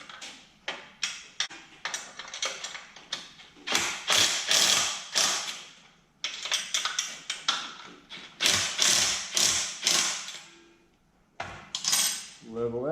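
A wrench tightens nuts on a scrap-metal chopper frame jig for a Sportster build, with a dense, close clatter of metal clicks and ratcheting taps running in quick bursts and brief pauses, no talking.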